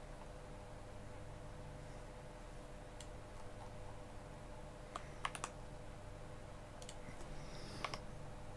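Soft clicks of someone typing on a battery-powered wireless computer keyboard, faint and sparse keystrokes with small bursts over a steady background hiss.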